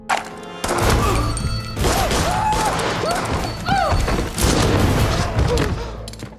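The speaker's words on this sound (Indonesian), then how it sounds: "Perwira Martinez datang yang langsung mengeluarkan senjatanya dan menembak Venegas." Several sharp gunshots ring out amid a dense, loud action film soundtrack of thuds, crashes and shouting voices, spread irregularly across the scene.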